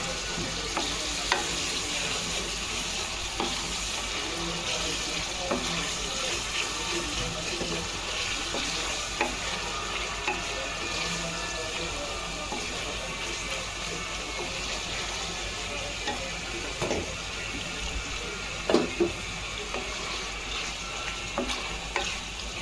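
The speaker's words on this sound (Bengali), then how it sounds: "এই কারণে আমি হালকা একটু পানি দিয়ে দিব আবার।" Spice masala being stirred in a pan after a little water is added, the paste having caught on the bottom; a steady soft sizzle and scraping, with faint clinks, runs close and continuous with no talk.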